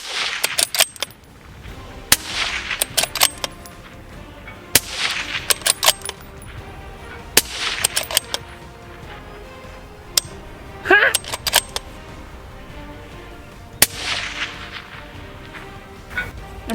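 Rapid rifle fire with solid copper monolithic bullets striking steel targets: sharp cracks in quick bursts, followed by ringing metallic clangs and pings, with brief quiet gaps between groups and a faint voice at times.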